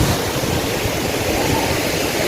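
Manthoka Waterfall in Skardu, Gilgit-Baltistan, Pakistan, pours down with a loud, steady, close roar of rushing water. The dense wash of sound fills the whole moment without pause, and no voices are heard.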